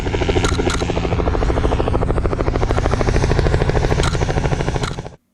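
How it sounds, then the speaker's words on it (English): A helicopter landing at a wedding thunders close by, its rotor beating in a fast steady rhythm that stays loud for several seconds, then cuts off abruptly. "I've never photographed a helicopter landing near somebody wearing a suit"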